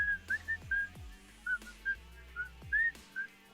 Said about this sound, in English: I'll start to whistle.